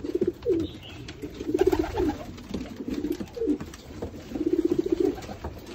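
Iraqi pigeons coo close by in a backyard loft in Sydney, Australia, with repeated throaty rolling calls in bursts of several pulses, one bird overlapping another, no talking.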